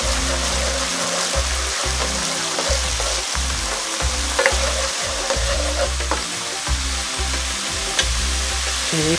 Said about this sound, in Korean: 그럼 간마늘과 생강을 넣어주세요. 그리고 볶아줍니다.